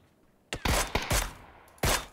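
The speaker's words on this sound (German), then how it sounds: "Links Schüsse." Gunfire in the video game PUBG: Battlegrounds, four loud sharp shots in quick, uneven succession, each with a short decaying tail, following a moment of near-silence.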